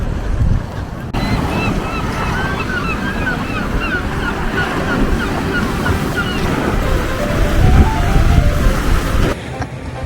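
Sea waves washing onto a shore beside a seaside café, a steady close rush of surf with wind buffeting the microphone throughout, loud and continuous for about ten seconds.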